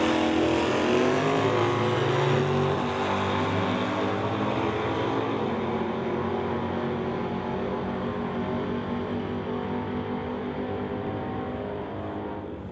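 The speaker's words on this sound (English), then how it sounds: "Burt Worrell going to be the next and possibly last pairing up in the 67 Chevy Nova" 1967 Chevy Nova at a drag strip, its engine roaring loud and steady as it accelerates down the track, with the pitch climbing and the sound slowly fading away at the end, and no talk.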